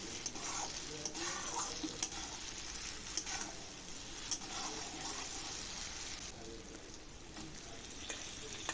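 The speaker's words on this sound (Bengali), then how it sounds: "এবার সবগুলো একটু ভালো করে কষিয়ে নেব" A faint, steady sizzle of vegetables and spices with lentil paste being sautéed in a pan. Soft stirring scrapes and light ticks sit over a low background hiss.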